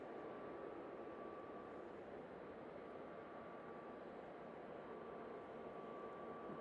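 A Boeing 787 Dreamliner jet at Manchester Airport, a steady broad engine roar heard from a distance, faint but constant with no break.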